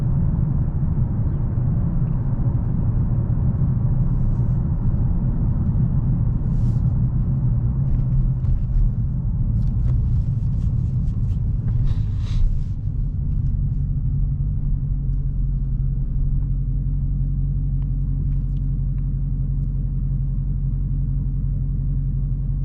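A 2022 Dodge Challenger Hellcat cruises at low speed, its engine giving a steady deep rumble with road noise heard from inside the car, continuous and fairly loud throughout.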